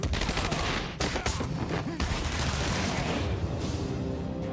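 Sustained gunfire in Batman: Arkham Asylum, a dense, loud barrage of rapid shots with heavy booms running throughout, with a few louder cracks standing out near the start.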